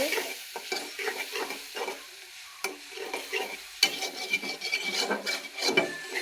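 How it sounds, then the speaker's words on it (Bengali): Spices are sautéed in a pan for a thin fish curry, heard as close, irregular stirring scrapes and rasping over a soft sizzle, in uneven bursts with brief pauses. "মশলাগুলো কষে যাক তারপর আমি সবজি দেব"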